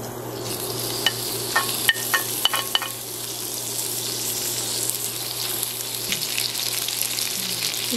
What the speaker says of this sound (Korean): 참기름을 이 정도 넣어 주시고, 소고기랑 마늘을 같이 볶아주겠습니다